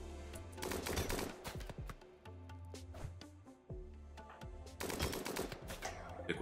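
Gunfire in the video game RimWorld rattles out in rapid bursts of sharp shots over a low, steady background hum, dense and continuous with brief lulls.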